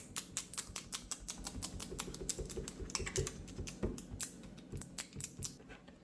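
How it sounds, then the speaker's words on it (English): Quick, light taps of a dust remover sticker against an iPhone 11 Pro Max screen, a close, brisk series of small clicks and pats, soft and steady for several seconds with nothing else heard. "Grab your dust remover sticker again, tap it again, make sure you get rid of all the dust"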